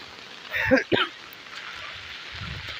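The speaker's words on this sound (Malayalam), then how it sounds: "നല്ല മഴയാണ്" Rain falls in a steady, moderate hiss while a voice speaks briefly near the start, then the rain continues alone.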